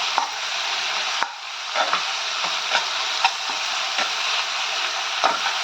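Tomatoes with a little salt sizzle in a pan for mint rice, a steady frying hiss broken by repeated scraping strokes of a spoon stirring and mashing them, close and clear.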